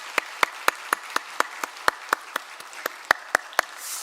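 A church congregation at a Wednesday worship service claps for the educators and teachers, a steady, evenly spaced beat of sharp claps, roughly four per second and moderately close.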